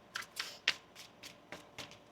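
Tarot cards shuffled in quick, close riffles, about seven crisp soft snaps in a light, irregular rhythm, quiet and with no voice.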